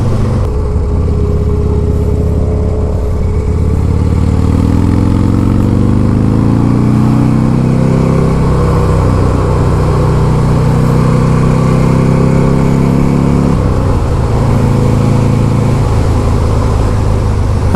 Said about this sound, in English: it's a lot more exciting when you twist the throttle and actually accelerate.